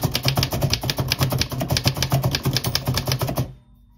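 An Underwood 3-bank standard portable manual typewriter clacks in a quick, steady run of keystrokes, close by, then stops abruptly, leaving near silence.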